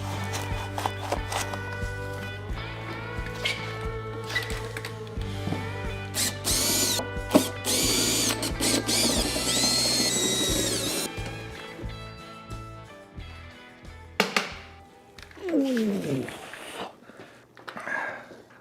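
Bolts and fittings being worked loose to free a laser engraver's rotary attachment from its wooden shipping pallet: clattering metal, ratcheting and knocking in irregular bursts, close up, with a brief scraping slide near the end.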